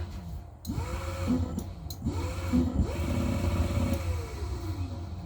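A motorcycle's push-button electric starter motor, run on a simple homemade wiring setup, whirs in repeated rising and falling bursts over a steady low hum, fairly loud and close, with no talking.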